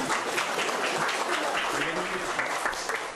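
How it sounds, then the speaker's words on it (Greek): A crowd applauds and cheers as Alexei Navalny, Vladimir Putin's strongest opponent, is released and embraces his wife, a dense continuous clatter of clapping throughout. "Εν μέσω χειροκροτημάτων και επιδοκιμασιών"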